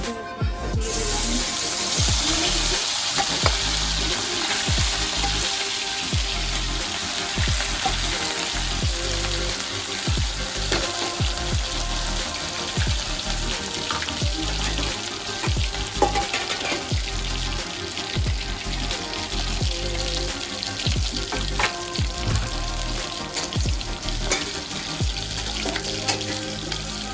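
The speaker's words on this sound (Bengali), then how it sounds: "এবার মশলাটা আমরা কষিয়ে নেব।" Spice paste for a meat curry frying in a hot pan, with a steady loud sizzle and a regular scraping rhythm as it is stirred throughout.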